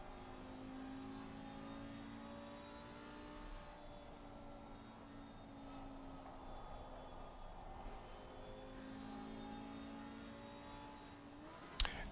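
A race car engine at Suzuka in a racing game drones steadily as the throttle is modulated through the S curves, a sustained moderate engine tone that shifts slightly in pitch, ending with a brief sharp click.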